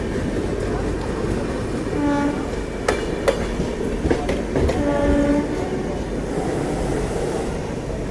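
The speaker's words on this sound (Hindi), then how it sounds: "घाट चढ़ के आ रही है पूरा, तो लोकोमोटिव इसमें पीछे एक्स्ट्रा लगे होंगे।" Clattering rail noise as the Pune–Ahmedabad Ahimsa Express climbs a ghat with extra banker locomotives pushing at the rear: steady rumble, sharp clicks of wheels over joints and brief horn-like tones, fairly loud and close, with some voices.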